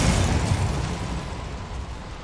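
A Bombarda spell explosion from the Hogwarts Legacy video game, a loud, sustained booming blast with a deep rumbling body that roars on steadily and starts to fade slightly toward the end.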